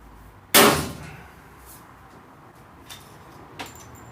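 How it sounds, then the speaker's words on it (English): A rivet is set into a part on a pickup truck bed during repair. A single sharp metallic snap rings out, followed by two fainter clicks in an otherwise quiet space. "let's rivet this on."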